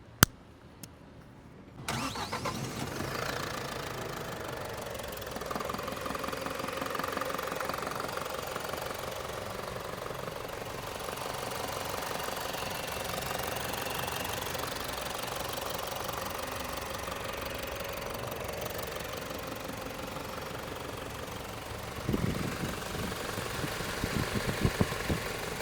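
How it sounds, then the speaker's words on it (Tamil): A Tata 716/45 bus chassis diesel engine cranks and catches after about two seconds, then settles into a steady, knocking idle that runs loud and close for the rest of the clip, with a slight rev near the end. "இப்போ நம்ம இன்ஜினோட சவுண்டு வந்து நம்ம கேட்க போகிறோம்."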